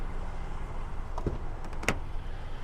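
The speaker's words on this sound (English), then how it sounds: "big piece of glass that tilts and slides back for the front passengers" A 2023 Kia Sportage EX AWD panoramic sunroof's front glass panel tilts and slides back, heard as a quiet electric motor hum inside the cabin with two short mechanical clicks as it moves.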